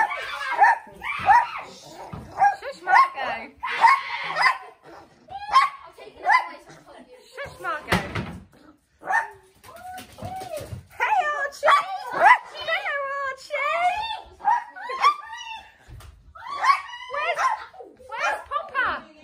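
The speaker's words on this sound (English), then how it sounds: "That's a big dog." A big dog barking and yipping indoors at home, with whimpers, while people, including a child, talk throughout.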